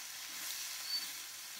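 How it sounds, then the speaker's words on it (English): Jumbo shrimp sizzle with garlic in a hot pan, a faint, steady, high-pitched frying hiss that continues evenly with no talking. "And you can hear the sizzle."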